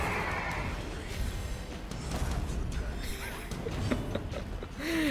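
A horse whinnies in a video game amid dense game noise and background sound, with rising and falling tonal calls near the end.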